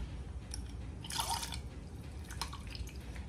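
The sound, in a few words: lemon juice squeezed into a cup of milk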